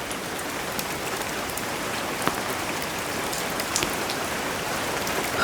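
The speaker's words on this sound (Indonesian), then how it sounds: "Sebentar, hujan." Steady, dense rain falls continuously, an even wash of drops hitting surfaces close by with a few slightly sharper splashes, and no voices over it.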